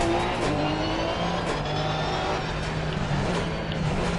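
A race car engine drones steadily and loudly on the Zandvoort circuit in Assetto Corsa Competizione, its pitch shifting through gear changes as the car heads onto the track, with no voices over it.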